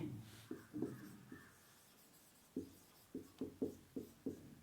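Chalk or marker writing on a board during a physics lesson, short scratchy strokes in uneven bursts, a few isolated marks then a quick run of several strokes, close and quiet.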